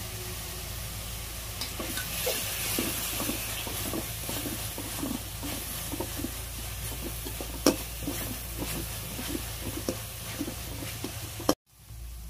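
Onions fry in a pan with rock salt and turmeric, giving a steady close sizzle broken by repeated stirring scrapes and an occasional utensil tap against the pan.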